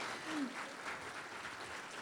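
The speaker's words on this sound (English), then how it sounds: "I want an amazing round of applause for every one of you who made it to this conference today" Conference audience clapping, a faint, distant-sounding patter of applause sustained evenly for a couple of seconds.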